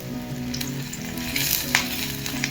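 Garlic fried in hot oil for a tempering beside pushed-aside onion, a loud steady sizzle and crackle with a few sharp spatters and stirring scrapes, no talk.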